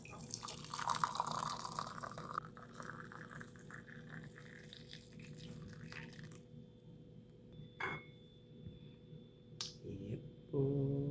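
Power tea, a home remedy for cold and flu, is poured into a cup. A soft, steady liquid stream is followed by a few faint drips and small clinks, all quiet and close.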